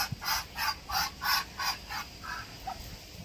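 Ducks sheltering on their perch in heavy rain call out in a rhythmic run of about seven honking cries, moderately close, over a soft background of rain.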